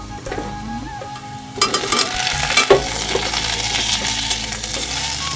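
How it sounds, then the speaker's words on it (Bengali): Onions sizzle steadily frying in a pan while a spoon scrapes and stirs, with a few louder clinks of metal on metal. "পেঁয়াজটা খুব ভালো করে ভাজা ভাজা করে নেব এই যে এরকম নাড়তে নাড়তে"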